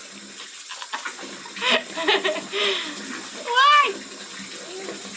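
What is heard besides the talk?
running tap water being caught by a kitten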